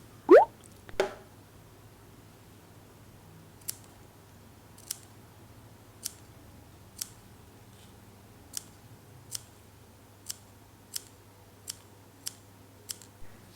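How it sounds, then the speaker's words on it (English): Scissors trimming excess fabric around a curved line while making scrunchies with ears: a couple of louder snips at the start, then a steady series of crisp, evenly spaced cuts against a quiet room hum. "Cut the excess fabric. Then trim around the curvy line."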